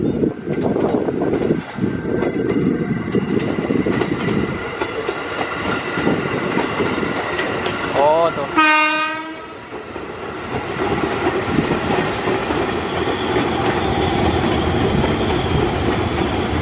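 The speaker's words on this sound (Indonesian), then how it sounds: "Ini kita lihat JR205 dari arah stasiun Manggarai." A JR205 commuter train rolls past near Jatinegara station in Jakarta, with steady loud rumbling and clattering wheels throughout and a brief rising horn blast midway.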